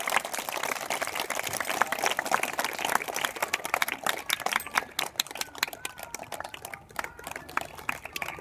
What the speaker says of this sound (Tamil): நம்ம எல்லாம் கைதட்டி அவங்கள நம்ம வரவேற்பு கொடுப்போமா?